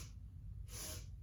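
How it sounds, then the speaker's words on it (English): Quick, faint sniffs through the nose during a Pilates mat exercise, a short series of soft breathy intakes, the clearest one near the end, with nobody talking. "So you're gonna go sniff, sniff, sniff, and then exhale to the center."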